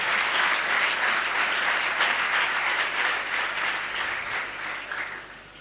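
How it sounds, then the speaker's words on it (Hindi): Loud, dense applause from a lecture audience of students at a Jain monk's sermon, sustained throughout and gradually tapering toward the end. "जोरदार ताली बजा दो।"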